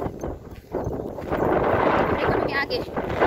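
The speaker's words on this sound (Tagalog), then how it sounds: "Medyo maririnig yung ingay ng hangin" Wind buffets an outdoor microphone in open rural countryside on Negros, making a continuous rough rumble that strengthens and gusts unevenly, with a muffled voice partly buried beneath it.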